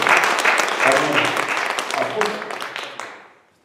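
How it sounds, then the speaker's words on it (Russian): A church congregation applauds during a service in Kyiv, a warm burst of clapping with voices speaking through it, fading out over the last moments. "Аплодисменты Господу Иисусу."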